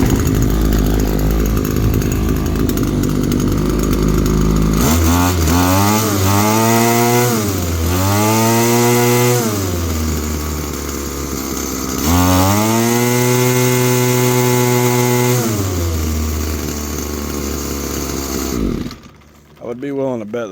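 Echo SRM-225 string trimmer two-stroke engine buzzing at idle, then revving up to full throttle in repeated rising and falling bursts, loud and close, before cutting back near the end.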